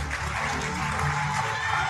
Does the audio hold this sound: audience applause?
yes